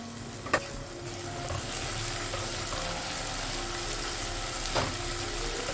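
Tomato and onion sauté in a pan for a soya chunk sandwich filling, giving a steady, dense sizzle throughout with a couple of brief utensil clicks.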